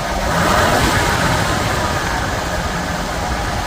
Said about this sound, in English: if I rev it up, the idle hangs, and you kind of have to kind of mess with this to get it to come back down